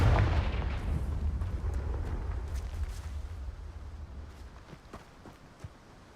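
A Confringo spell explosion in a Harry Potter video game, heard as a deep booming blast that opens loud and rumbles down over several seconds, with small scattered clicks in the fading tail.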